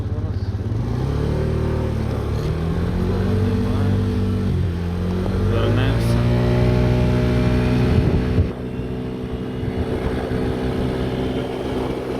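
A Suzuki Lets 4 scooter engine drones loudly and steadily at full throttle on a test ride, its pitch climbing in stages as speed builds, with wind buffeting throughout and a brief dip near the end.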